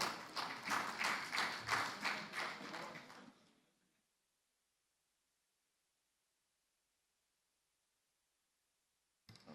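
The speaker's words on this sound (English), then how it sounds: "Please, another round of applause for her" An audience at a transport conference applauds, a dense burst of clapping that lasts a few seconds before fading into near silence, with a faint sound returning at the very end.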